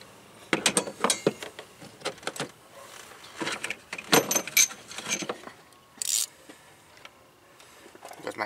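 An 8mm socket wrench working loose a bolt on a Nissan Kicks during a spark plug change, heard as sharp metallic clicks and ratcheting bursts in irregular clusters, close up, separated by short quiet gaps.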